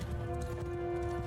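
Cavalry horses charge in the Mount & Blade II: Bannerlord video game, a steady mass of hoofbeats and clattering battle noise running under a dense layer of combat sound.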